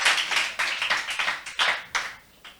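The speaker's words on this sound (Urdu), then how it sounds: "ان کے لیے بھرپور تالیاں ہونی چاہیے تاکہ ان کی حوصلہ افزائی رہے۔" Audience clapping at a quiz competition after a correct answer, a few short rhythmic bursts of applause that swell and fade, fairly close and with no talking over it.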